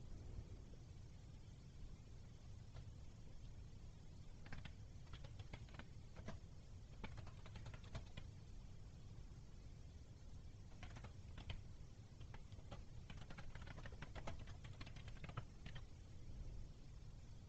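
Faint, scattered clicks of typing on a computer keyboard come through clusters of keystrokes, over a quiet steady background hum.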